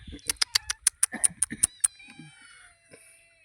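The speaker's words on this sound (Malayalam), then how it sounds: "ഞങ്ങളുടെ മീൻ കാണാൻ വന്ന 2 പൂച്ച." Two cats meow in a quick run of about a dozen close, loud, sharp calls, then fall quiet with only a faint low murmur behind them.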